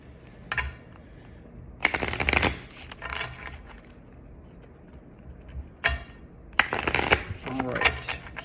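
Tarot cards shuffled by hand at close range in a few crisp riffling bursts separated by quieter handling and soft card slides.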